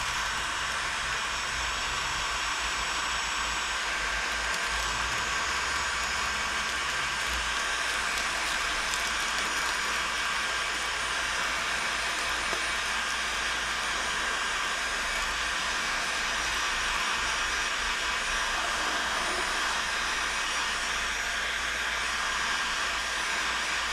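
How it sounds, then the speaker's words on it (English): Heat gun blowing hot air onto vinyl lettering, a steady, loud, continuous hiss and whoosh that runs unbroken from start to finish with no talking. "So then I'll just take my heat gun."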